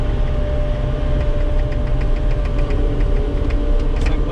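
A skid steer loader's engine runs at a steady, close, constant drone with a slight rattling vibration, uninterrupted for the whole stretch and with no talking.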